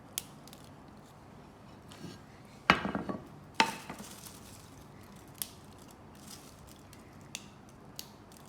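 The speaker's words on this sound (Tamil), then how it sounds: "இதை நாங்கள் உடைச்சிடலாம். உங்களுக்கு சத்தம் கேட்குமென்னு நினைக்கிறேன்." Crispy fried pepper sev, a garlic and asafoetida snack, snapped apart by hand: two sharp crunchy cracks close to the mic, each trailing brief crackles, then a few faint scattered clicks in quiet.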